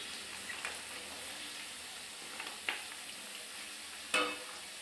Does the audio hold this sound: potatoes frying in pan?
yes